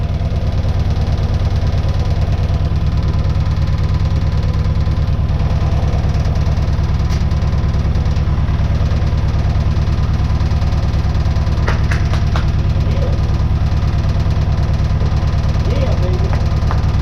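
A rebuilt 1966 Austin Healey Sprite engine, newly running after sitting since 1983, idles loud and close with a constant deep rumble and light knocking rhythm, while faint voices come through at moments.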